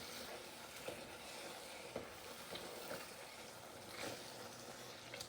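Biryani spices and ingredients, including turmeric, are stirred together in a pan, with a faint continuous sizzle and soft periodic scraping strokes of a spoon.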